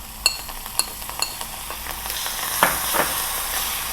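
Ginger sautés in a pan for a ven pongal tempering: a soft, hissing sizzle with a few sharp spoon taps and stirring scrapes, close and fairly quiet.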